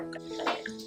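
Pasta cooking water is poured into a frying pan with a short, close splashing and dripping trickle while making vegan penne alla vodka.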